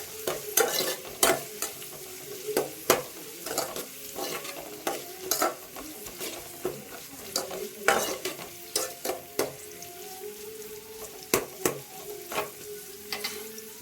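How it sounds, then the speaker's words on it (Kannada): Onion and curry leaves with a little mustard and cumin frying in oil for an okra curry, a low sizzle under repeated spoon-scraping stirs and taps against the pan, close up, no voices. "ಫ್ರೈ ಮಾಡ್ಕೊಂಡಿದ್ದೀನಿ ಎಣ್ಣೆಯಲ್ಲಿ."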